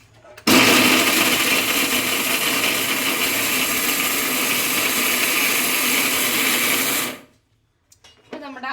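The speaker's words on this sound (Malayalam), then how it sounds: "നമ്മൾ മിക്സിയുടെ ജാറിലേക്ക് ഇട്ടു കേട്ടോ ഇനി നമുക്കിതൊന്ന് പൊടിച്ചെടുക്കാവേ" A mixer grinder grinds coconut pieces, roaring loudly at close range for about seven seconds, a harsh steady whir of the blades chopping, then cuts off abruptly.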